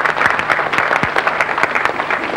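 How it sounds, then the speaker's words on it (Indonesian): Applause for a choir leader at a children's songs event, a dense crowd clapping steadily and close for a couple of seconds with no break. "tepuk tangan buat Pak Pranajaya"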